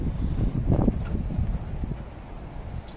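Wind blowing outdoors at a cooking spot where trout is being smoked, a rough low rumble of gusts buffeting the microphone that is strongest early on and eases off, with no talking.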